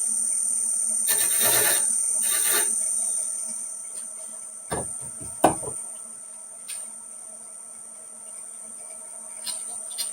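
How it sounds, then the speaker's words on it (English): Sandpaper rubs against a piece of turned wood in two short gritty bursts, followed by a few light knocks and taps over a steady background hum. "Get a little sandpaper on there."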